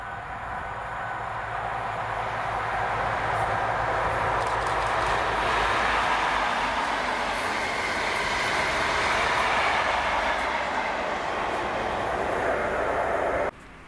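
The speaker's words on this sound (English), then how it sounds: "1A63, the 1254 ScotRail service to Glasgow Queen Street from Aberdeen with 43026 and" ScotRail service from Aberdeen to Glasgow Queen Street, hauled by two power cars, 43026 and 43146, passes at Cumbernauld as a loud, steady rumble of engines and wheels on rail that holds for the whole stretch, with no talk.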